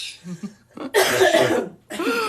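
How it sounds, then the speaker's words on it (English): A person coughs repeatedly and harshly up close, a run of rough, hacking bursts with brief gasping pauses between them. "Sent her into a coughing fit."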